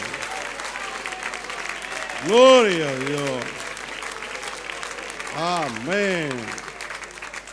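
Congregation applauding throughout a Sunday evangelical church service in Santiago, Chile, steady clapping running under sung and spoken praise from a worship leader's voice.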